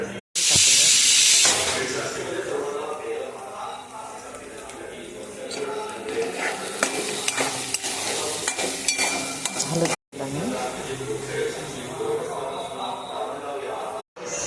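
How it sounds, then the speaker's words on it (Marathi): Mutton curry simmering and stirred in a kadhai, a steady close hiss and bubbling sizzle with scraping stirs, running continuously with brief cuts and a voice talking over it. "पहा आता मटण किती छान शिजतंय"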